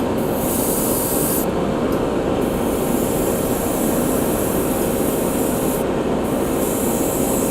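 Spray can laying primer onto printed pelvis parts of a Gipsy Danger frame: a steady, loud continuous hiss running the whole time, with brief breaks in the upper sheen, close and alone without talk.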